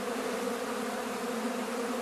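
Honey bees from a small autumn swarm, a queen with the remnant of a broken-up colony, buzz in a dense, steady drone throughout, close and continuous with no talk.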